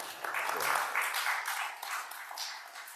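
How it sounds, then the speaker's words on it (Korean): Church congregation claps briefly during a Sunday service, a short burst of scattered applause that tapers off within a few seconds. "우리 박수 한번 쳐주세요. Give us a clap."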